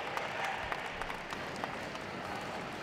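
Applause greets the four terrier group finalists at a dog show: Miniature Bull Terrier, Irish Terrier, Norwich Terrier and West Highland White Terrier. A faint, distant patter of clapping with a few sharper claps stands out in a large hall.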